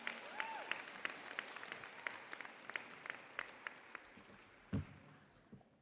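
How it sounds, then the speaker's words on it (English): Applause from a school closing-ceremony crowd for a homeroom class, with steady, fairly distant clapping, scattered sharper individual claps and a brief louder burst near the end. "Another round of applause for the Adams homeroom."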